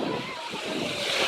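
Stormy sea waves breaking on a beach at Yevpatoria, a broad, continuous roar of surf with wind buffeting the microphone, loud and close throughout.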